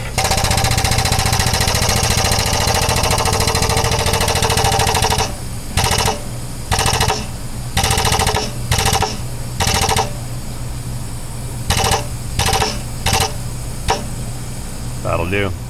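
Pneumatic air tool hammering on a car exhaust during a budget repair, starting with a long continuous loud burst, then a series of short separated rattling bursts with pauses between them.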